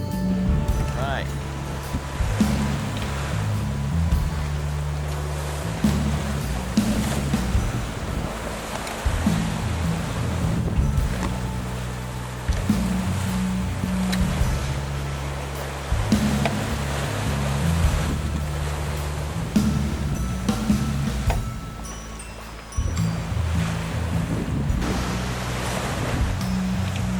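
A sailboat crossing the Pacific toward Hawaii, with steady ocean wash and wind roaring across the microphone, hull slaps and surges recurring every few seconds throughout.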